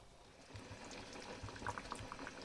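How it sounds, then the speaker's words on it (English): Lamb in red wine sauce simmering in a pan on the stove, a faint low bubbling and soft popping, quiet and steady. "that's going to sit there simmering away for probably about 2 hours"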